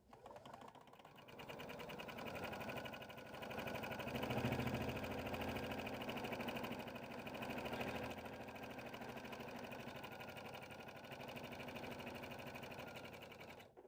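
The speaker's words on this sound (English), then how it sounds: "we're going to take this to our machine and top stitch a 1/4 inch from this top edge" A sewing machine top stitching a tote bag pocket runs in one long, steady mechanical whir close by, its rapid needle rhythm swelling slightly midway and carrying on without a break.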